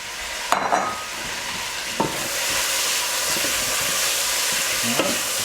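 Beef suqaar, stewed beef pieces, sizzles and fries in a pan with a steady broadband hiss, broken by a few louder spits and stirring clatters at the start, middle and end.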